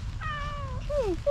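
A stray kitten close by lets out one long meow, then a shorter falling meow, with a low steady rumble of background noise underneath.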